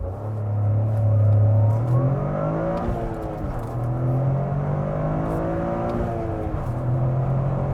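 A 2023 Toyota GR Corolla Circuit Edition prototype with a turbo 1.6-liter three-cylinder accelerating hard without launch control; loud, close engine drone rising through the gears with clear pitch drops at shifts, steady and without talk.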